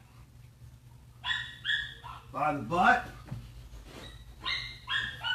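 A dog whimpers and yips in high-pitched bursts while being put into a metal crate, with a few louder whines near the middle and someone speaking over it.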